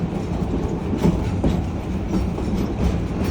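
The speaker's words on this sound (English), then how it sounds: "If you look up to the front of the train, you can see our locomotive as we head through a curve." A Yosemite Mountain Sugar Pine Railroad train rumbles steadily through a curve, its wheels clacking over the rails in a continuous close, loud roll with no talk.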